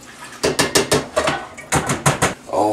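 A metal saucepan set down among kitchen cookware, a string of close, sharp clanks and knocks of pot against metal in an uneven rhythm.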